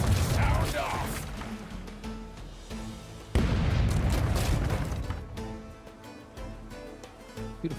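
Ship cannons fire in the Rogue Waters video game, with heavy booms and crashing impacts that come in bursts, one hard blast partway through, over game music and sound effects while a voice talks.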